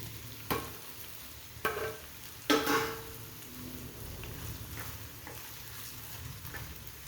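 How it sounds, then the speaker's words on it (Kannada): Three eggs scrambling in a hot pan: a steady low sizzle with a few sharp spatula scrapes and clinks against the metal, the strokes spaced apart, close and fairly quiet, no talking. "ನೋಡಿ ಚೆನ್ನಾಗಿ ತಿರುಗಿಸ್ಬಿಟ್ಟು ಚೆನ್ನಾಗಿ ಫ್ರೈ ಮಾಡಿದ್ರೆ ಮೊಟ್ಟೆ ಪಲ್ಯ ಆಯಿತು"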